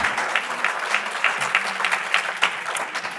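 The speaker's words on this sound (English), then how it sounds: "All right, you can all applaud now." Audience applause at a League of Women Voters candidate debate, a short burst of many hands clapping in a room at moderate loudness, steady throughout with no voices over it.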